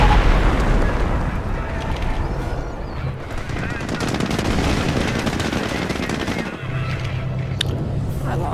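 Machine-gun bursts and scattered explosions fill a battle in the World War II strategy game Company of Heroes. The rattling fire is dense and loud, with booms and game voices mixed in.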